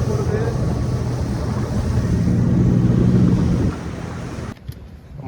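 A houseboat or motorboat moves across the backwaters at Alappuzha, a steady rushing wash of water and wind noise with engine rumble building, then dropping abruptly near the end.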